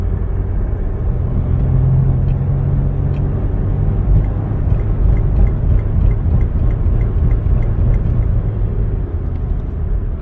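Engine of a 2008 Mercedes-Benz ML320 under heavy acceleration with a severe hesitation and surge fault, a loud, steady close-up rumble that drones on without a break and with no voices over it.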